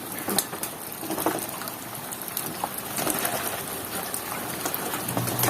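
Water sprinkled over caged birds and garden plants makes a steady rain-like patter of droplets, close and continuous, hissing and spattering with a few sharper splashes and no voices.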